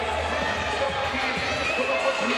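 Dense, steady roar of a raucous volleyball crowd cheering in a professional arena, loud and continuous throughout.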